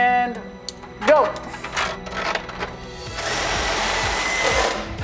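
A powered saw blade grinding into a catalytic converter pipe fitted with an anti-theft product, starting with brief rattling bursts and then settling into a loud, sustained rough cutting roar, with people talking over it early on.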